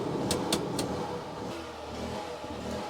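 A portable generator near a camper runs with a steady low engine hum, faint and continuous under a few sharp clicks at the start.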